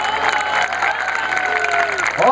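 An audience at a live poetry performance breaks into applause and cheering, a steady wash of clapping from a crowd with voices mixed in, swelling slightly at the end.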